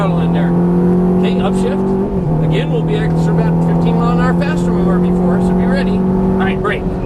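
A 2014 Ferrari F430 on a Las Vegas race track gives a loud, close engine drone that climbs in pitch, drops briefly at a shift and keeps pulling, while an instructor talks over it.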